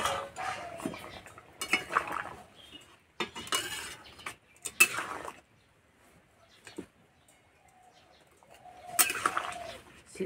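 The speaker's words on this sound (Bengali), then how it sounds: "চাপাটা খুলে দেখে নেব সিদ্ধ হয়েছে নাকি।" Metal pot lid lifted off a pot of cooking jackfruit, several clanks and scrapes of cookware at close range, separated by quiet gaps, with faint birdsong in the background.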